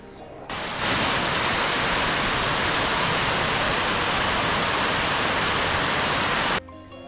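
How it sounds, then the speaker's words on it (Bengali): Water streaming down a hillside in Cherrapunji, Meghalaya, a loud, steady rushing roar that starts abruptly, holds constant and then cuts off. "এই দেখুন, জলের ধারা নেমে যাচ্ছে"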